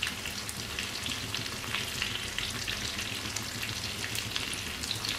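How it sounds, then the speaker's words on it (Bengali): Hilsa fish fry slowly in a pan over low heat, giving a steady, even sizzle and crackle that runs unbroken throughout, with no talking. "মাছগুলোকে হালকা আঁচে ধীরে ধীরে ভেজে নেব আমি।"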